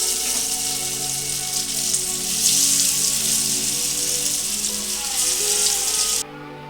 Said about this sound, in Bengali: ধোকাগুলো আমি ঠিক এইভাবেই ভেজে নিচ্ছি।